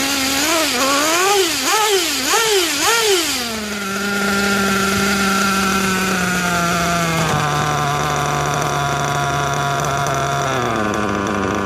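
Nitro RC engine running on the bench during break-in, a loud, buzzy high-pitched whine that warbles and surges with throttle blips at first, then settles into a steady drone that steps down in pitch twice.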